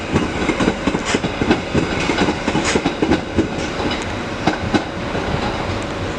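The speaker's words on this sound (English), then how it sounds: "Departing now is 777-016 on a Merseyrail service to Liverpool Central." A Merseyrail Class 777 electric train departing Chester station for Liverpool Central, a loud, close rhythmic clickety-clack of wheels over rail joints with a steady motor whine beneath, no voices.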